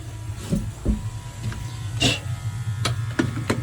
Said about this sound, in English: Let me get my infrared printer set up. I'm gonna power this thing on.